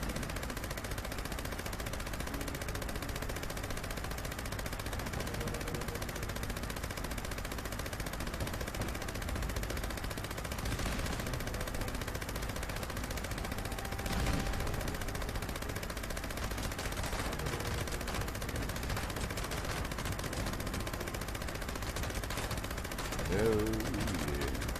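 Gunfire in the Fallout 76 video game, a dense continuous spray of shots in a noisy scene, with speech mixed in.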